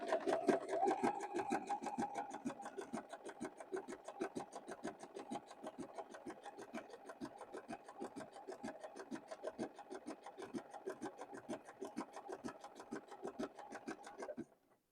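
A sewing machine fitted with an open toe foot stitches along the edge of fabric, a fast, even, rapid-fire stitching rhythm heard close and steady for about fourteen seconds before stopping, with no voices.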